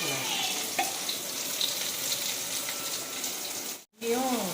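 Water and rice for prawn biryani bubble in an open pressure cooker, a steady dense sizzling boil that briefly cuts out near the end. A voice speaks faintly underneath at the start and end.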